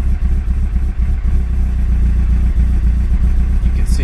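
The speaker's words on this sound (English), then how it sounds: "You can see it's very, very calm idle. It's not hunting or anything." A cold-started Mitsubishi Evo 8 with a 2.3-litre engine running on E85 idles steadily at about 1000 RPM, a close, constant low rumble with a fine rapid pulse and no hunting, heard alone without voices.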